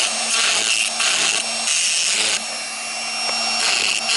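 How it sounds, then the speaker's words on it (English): A Dremel rotary tool enlarges a slightly misaligned hole during a Jeep Wrangler TJ hood install. Its high, loud, continuous whine is close-up and dips briefly as the tool lifts and bites again. "So I'm going to open it up just a hair with my Dremel tool."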